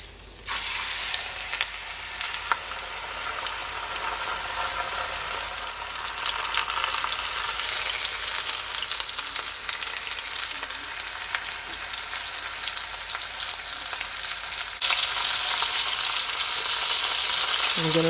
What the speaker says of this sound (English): So I'm gonna sear it guys for at least 5 minutes on each side.